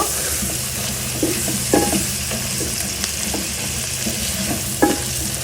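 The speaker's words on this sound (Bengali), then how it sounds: "এখন এখানে আমি চিকেনটাও দিয়ে দিব" Chicken pieces frying in a pan for chow mein, with a strong steady sizzle broken by several sharp clanks and scrapes from stirring, close up, with no talking.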